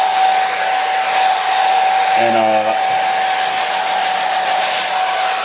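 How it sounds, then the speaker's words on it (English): A blow dryer runs continuously and loudly up close while drying and flattening the brim of an older snapback hat, with a steady whine and a brief word spoken over it. "Keep running the blow dryer around it"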